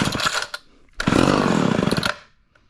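A chainsaw cold starting: a brief sputtering catch, a short gap, then the engine fires and runs roughly for about a second before cutting out, loud and close.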